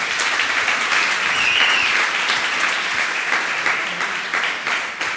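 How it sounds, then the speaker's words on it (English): A conference audience at TYPO3 Developer Days 2016 in Nuremberg applauds at the close of a Docker session, giving dense, sustained clapping from a full room that stays loud and even throughout. "Give it a big applause for a session"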